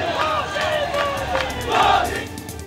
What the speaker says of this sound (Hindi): मोदी मोदी के नारे गूंज रहे थे।